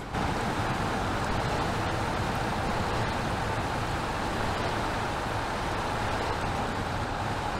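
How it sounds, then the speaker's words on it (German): A truck engine idles steadily in SnowRunner, a constant broadband rumble with hiss, unchanging and close for the whole stretch. "Machen wir kurz den Motor mit dazu."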